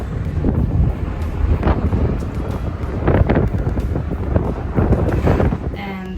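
Strong wind buffets the microphone in rolling gusts during a ferry crossing off a Costa Rican peninsula, with a dull rumble underneath that rises and falls over several seconds.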